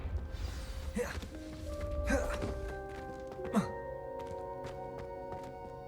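Confringo spell in Hogwarts Legacy blasting candelabras: three sharp blast impacts spaced about a second apart, followed by bright ringing and clattering tones, with a voice talking underneath.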